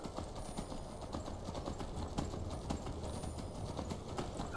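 Horse hooves clip-clop steadily in the video game Skyrim, a fast, even rhythm of thuds set against a constant dense background wash.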